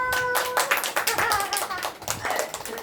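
Several people clap at a home birthday gathering, with quick uneven hand claps close by and continuing over a voice singing or speaking underneath.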